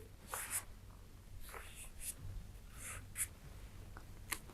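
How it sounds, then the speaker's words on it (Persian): Filter paper being folded in half and creased again, a quiet series of short papery rustles and swishes up close, with no one talking. "سپس باز هم از وسط نصف کرده و قات می‌کنیم."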